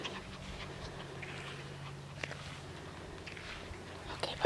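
Six-week-old puppies pant steadily up close, with a few soft whimpers and small scuffling paw sounds mixed in over a continuous low background.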